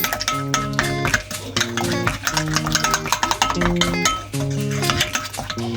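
A spoon scrapes and clinks against a pan as chicken is stirred in sauce, with rhythmic metallic tapping and ringing tones throughout.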